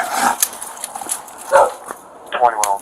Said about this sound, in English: Your dogs need to be secured.